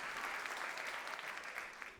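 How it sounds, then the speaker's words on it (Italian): Comedy club audience applauding during an Italian stand-up set, a dense burst of clapping that holds steady and starts to fade at the end. "un applauso all'evasione fiscale."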